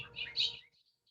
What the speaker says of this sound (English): the bobolink sounds like R2D2